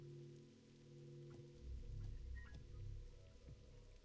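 Steady rain patter in the game World of Warcraft Classic, a soft continuous wash with low rumbling swells, heard alone.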